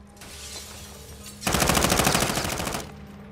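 Automatic weapon fire in Call of Duty Warzone 2.0, a dense rapid burst lasting over a second, loud and close, after a stretch of quieter ambient game noise.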